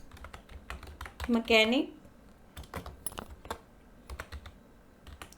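Keys tap on a computer keyboard while an online recruitment form is filled in, irregular clusters of clicks running before and after a brief spoken word.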